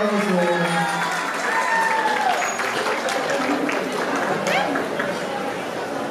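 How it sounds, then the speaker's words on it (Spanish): Loud, steady applause from a gathered crowd at a quinceañera-style doll presentation ceremony, continuous hand clapping mixed with chatter and a few voices calling out, filling the room for several seconds. "Fuerte el aplauso que te escucho para los dos."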